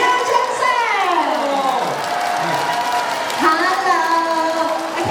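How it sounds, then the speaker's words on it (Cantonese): A concert press-conference audience cheers and shouts, loud whoops and clapping blending into a dense continuous roar close by, with excited voices rising and falling throughout. "謝掌聲。"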